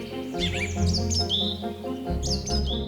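A hoopoe gives territorial warning calls: sharp, bright chirps and short sweeping notes in irregular bursts over a steady low hum, fairly close and with no voices.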